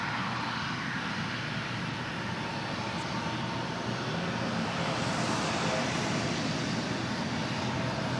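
Airbus A340 airliner at DFW Airport, a steady distant engine drone with a broad low rumble, moderately faint and continuous with no talking.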